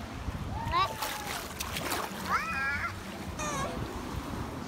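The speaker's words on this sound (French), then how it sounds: "on s'est pris une sacrée vague là encore" A wave splashes over a raft on a wild river, a rushing, churning wash of water with bursts of splash beneath excited voices and shouts from the people aboard.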